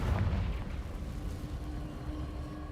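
The Confringo fire spell in Hogwarts Legacy bursts with a deep rumbling explosion that hits hard at the start and then rolls on as a low, dull roar.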